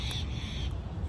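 A single harsh bird call rings out, close and fairly loud, over a low rumbling background, on the Corniche waterfront in Saudi Arabia on a Sunday morning.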